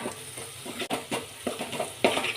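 Spices sautéing in hot oil for a tempering in a Maharashtrian prawn curry, a steady close sizzle with stirring scrapes and a few sharper crackles, no talk.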